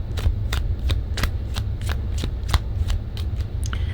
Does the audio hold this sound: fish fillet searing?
no